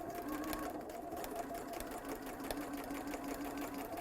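A sewing machine stitches a seam flat on a scrubs jacket, a quiet, steady rapid mechanical whirring and needle tapping that runs unbroken throughout without talk.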